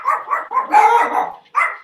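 Dogs bark in a quick series of sharp, loud, close barks, a few separated by brief pauses, with no one talking.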